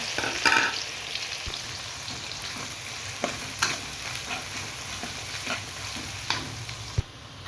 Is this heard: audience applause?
no